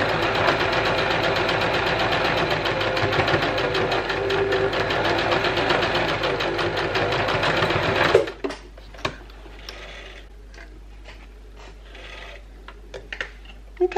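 A sewing machine stitches facemask lining with a loud, close, rapid mechanical whirr and clatter for about eight seconds, then stops abruptly, leaving a few soft handling clicks and taps.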